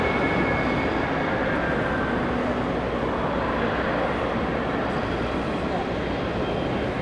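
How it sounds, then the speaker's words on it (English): Boeing 777 airliner at Los Angeles airport, a steady broadband engine roar filling the whole stretch at constant loudness, with a faint tonal whine riding on top and some muffled voices in the background. "Let's enjoy the 777 sounds."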